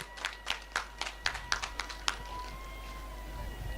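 A crowd claps at a kambala buffalo race semifinal on a twin track at Naringana: a run of separate, fairly rhythmic handclaps over about two seconds, then they fade into a steady, quiet background hum.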